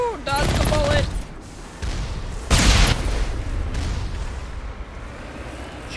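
Gunfire in the sci-fi shooter Mass Effect 1 Legendary Edition comes as several bursts of booming shots and blasts, loud and close, separated by short lulls, with a voice speaking briefly near the start.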